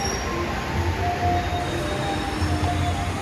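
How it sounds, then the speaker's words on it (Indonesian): The Tawang Alun economy train, a cheap subsidized service from Malang to Ketapang Banyuwangi, rolls on with a steady rumble and faint wheel squeals, with no voices. "Kereta api Tawang Alun, kereta ekonomi subsidi murah dari Malang tujuan Ketapang Banyuwangi"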